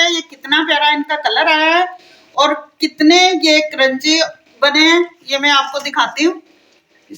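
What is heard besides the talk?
None of the usual background noises is heard.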